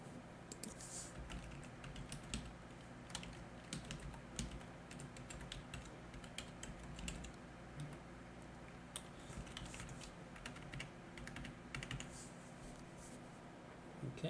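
Faint, quick keyboard clatter as an address is typed on a computer, a steady run of soft key taps over a low background hum.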